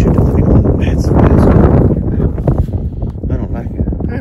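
Heavy wind buffeting a phone microphone outdoors, a loud continuous low rumble that swells and gusts under a person talking.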